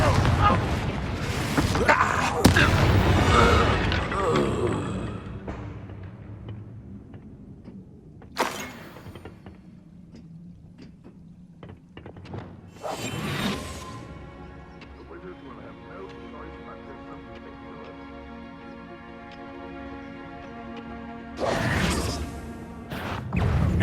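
Confringo blasting spells in Hogwarts Legacy go off as several loud bursts and crashes spread across the stretch, each followed by a ringing magical tail, with spoken spell names and other game sounds between them.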